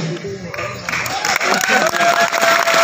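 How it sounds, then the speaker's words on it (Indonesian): An audience applauds and cheers at the close of a Randai theatre performance, a dense wash of clapping and crowd noise swelling louder toward the end, with a voice speaking over it. "Memberikan tepuk tangan yang mulia"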